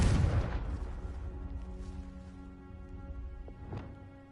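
A Confringo blast spell goes off in a Hogwarts video game, a sharp, loud explosive boom that rings out into a long fading tail, followed by a fainter second pop a few seconds later.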